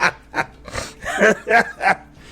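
A human voice imitates a dog whimpering in five short, whiny, rising-and-falling yelps. They are close and fairly loud, with brief pauses between them.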